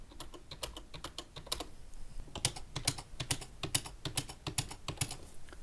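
Keys pressed on a computer keyboard wired to an Iron Man Hulkbuster cosplay control setup, a steady run of crisp, close clicks in quick irregular bursts, with no voices.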